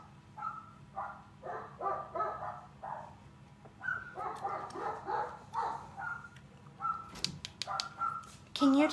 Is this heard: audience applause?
no